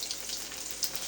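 Mustard seeds, garlic and curry leaves sizzle softly in hot oil left over from frying bajji, a faint steady crackle with a few tiny pops, heard alone.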